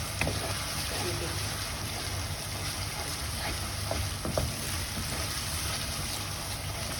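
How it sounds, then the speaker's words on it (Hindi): Tomato, ginger, garlic and onion frying in oil for a fish kofta curry, a steady, soft sizzling hiss throughout with a few faint clinks and scrapes. "अब 2 मिनट तक भूनूंगी, इसका तेल सेपरेट हो रहा है।"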